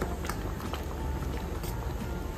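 A Goan mixed vegetable khatkhate curry, sweetened with jaggery, simmers uncovered in a pot with a steady, soft bubbling and faint popping. The sound holds even and low throughout, with no talking.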